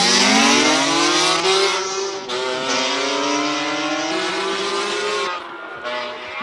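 A Porsche race car climbing a hill course at a Cape Town speed classic event, its engine loud and close, revving up through rising gear pulls with quick shifts, no talk over it.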